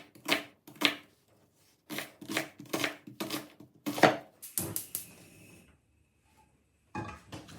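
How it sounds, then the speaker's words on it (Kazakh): Onion diced into small cubes with a knife for chicken cutlets: a run of crisp, rhythmic chops in short bursts with brief pauses, close and fairly loud, no talking. "Пиязымызды кішкентай 4 бүрішті текшелерге тураймыз."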